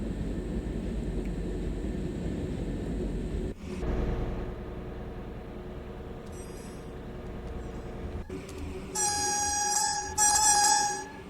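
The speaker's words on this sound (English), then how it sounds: "This is a nice train to drive, or at least nice cab car to drive." A DB BR 218 diesel pulling an n-wagen cab car train on the Hamburg–Lübeck line in Train Sim World 4: a steady low engine drone and rail rumble, a clunk partway through, then bright electronic cab tones near the end.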